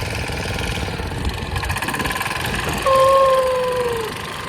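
A boat engine chugs steadily nearby, then a high whistle-like tone cuts in over the running motor for about a second.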